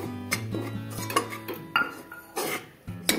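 A spoon scraping and clinking against a pan while gram flour (besan) is stirred and roasted, a series of irregular close metallic scrapes and knocks with no voices.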